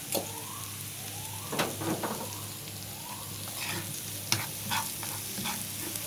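Garlic and coriander frying in a pan for green molokhia, stirred continuously, with a steady close sizzle and occasional louder scraping strokes of the spoon.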